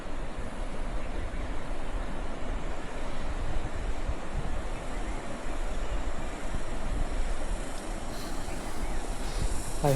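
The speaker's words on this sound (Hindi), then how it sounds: "नीचे से नदी की आवाज़ आ रही है," River flowing below a hillside village in Nagaland, a steady broadband rushing wash with wind, continuous and moderately loud with no talk over it.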